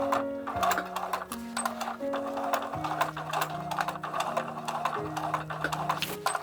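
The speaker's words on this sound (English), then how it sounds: "now I am just sewing up here, stopping and continuing" Sewing machine stitching a corset with a lining layer, its needle running in steady mechanical bursts that stop and restart, close and loud, with tones shifting as the speed changes.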